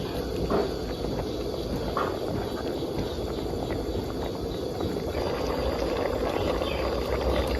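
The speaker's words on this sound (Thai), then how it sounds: "หลังจากนั้นก็ต้มไว้ต่อสักสิบนาทีค่ะ ให้เห็ดมันสุก หน่อก็จะสุกดี" A pot of pickled bamboo shoot curry with mushrooms boils steadily, giving a continuous low bubbling hiss at moderate level with no talk over it.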